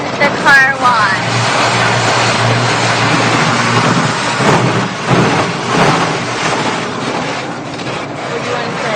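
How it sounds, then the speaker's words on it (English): Automatic car wash running over a car from inside the cabin: a steady rushing wash of water and machinery, swelling and easing as the equipment passes. A voice and other talk come through over it. "We're in the car wash."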